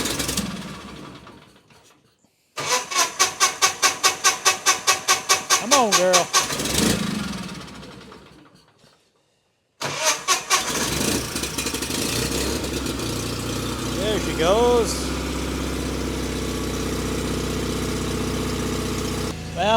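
A 37-year-old John Deere 316 lawn tractor engine cranks in a rapid rhythmic burst, stalls, then catches and settles into a steady, slightly surging idle, with people talking briefly over it.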